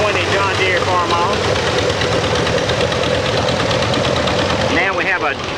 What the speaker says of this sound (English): Next we have a 420 John Deere Farmall.